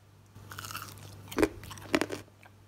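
Crispy fried banana fritters are bitten and chewed up close, with two sharp, loud crunches followed by softer chewing in an otherwise quiet room.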